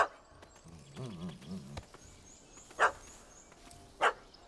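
In The Witcher 3, a dog gives a string of quick wavering yips and barks, followed by two sharp single barks a second apart, set against quiet game ambience.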